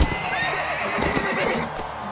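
A horse in Mount & Blade: Warband neighs and whinnies amid clip-clopping hooves and battle noise, fairly close and clear, with no talking over it.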